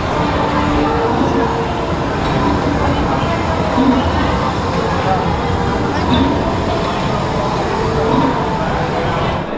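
Steady rumbling of a theme-park train ride at Universal Orlando fills the clip, a constant broadband rattle with a few faint clunks, loud and continuous without clear voices.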